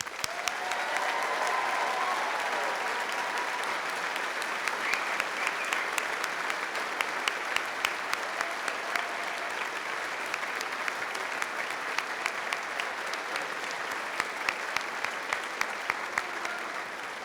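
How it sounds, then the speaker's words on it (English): A convocation audience applauds the graduates of a university health faculty, a sustained, dense roll of clapping with sharp individual claps popping out, continuing evenly for many seconds. "please join me in congratulating all of the graduates with your applause"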